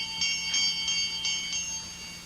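A small bell rings repeatedly in a quick, even rhythm in a radio drama, its bright metallic tone clear against a quiet background.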